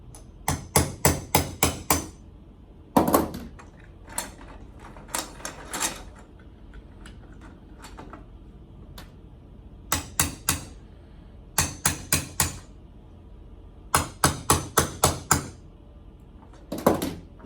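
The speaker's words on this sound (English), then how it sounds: "you can now use your dowel pin to push it through the rest of the way" Sharp metallic taps ring out in quick bursts of three to six as a dowel pin is driven against a pin in a side-flexing tabletop conveyor chain, with pauses between groups and quiet handling noise in the gaps.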